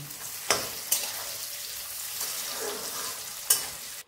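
Vegetables for vegetable fried rice fry in oil, a steady close sizzle running throughout with a few sharp clicks of a utensil at the pan.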